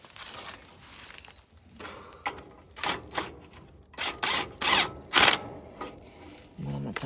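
Bolt being tightened on a shank of a John Deere 722 field finisher, a run of close ratcheting clicks and metallic turns building into louder bursts, with brief clanks toward the end.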